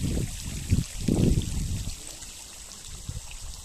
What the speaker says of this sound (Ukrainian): Чути водичка як ріпочеться.